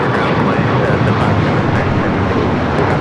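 An Airbus airliner at Los Angeles LAX airport, a loud, steady, close engine roar with broad rushing noise that fills the whole stretch, with a voice faintly under it.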